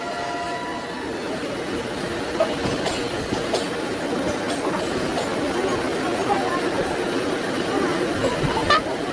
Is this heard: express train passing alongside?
yes